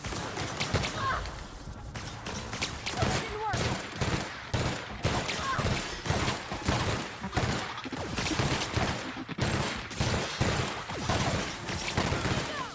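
Light machine gun fire in The Outer Worlds, long sustained bursts of rapid shots that crack and rattle on almost without a break, loud and close, with brief gaps between strings of fire.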